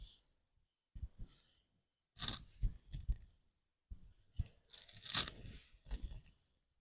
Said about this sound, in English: There's my clicky shoulders again.